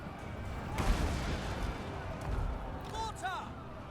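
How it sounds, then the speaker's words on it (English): Mortar artillery fire in the battle game Total War Warhammer, with dull booms and rumbling blasts mixed into dense battle noise, while a voice talks over the top. "See if my mortar can keep getting some work done"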